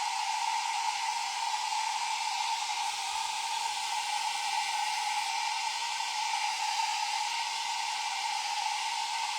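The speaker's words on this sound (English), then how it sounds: "I think I'm going to have to find me a dryer that's really hot." A hair dryer blows steadily to dry rice paper on a bottle, a loud continuous whoosh with a constant whine that runs unbroken throughout, with no talking.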